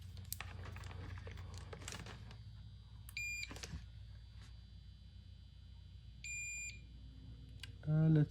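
Short electronic beeps from a multimeter on continuity test while probing pins of a flex cable inside a Sega Dreamcast under repair, two brief tones amid light handling rustle, followed by a low hum at the end.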